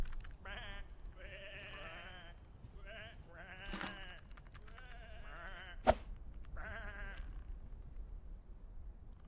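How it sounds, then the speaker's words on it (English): Several sheep bleat in repeated wavering calls in a point-and-click adventure video game, one after another, with a sharp knock partway through and a low background rumble. "Come on, these are just sheep."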